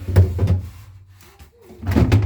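A freezer drawer of a Whirlpool W5 811E OX refrigerator is handled, giving a couple of soft sliding knocks and thuds, close and fairly quiet.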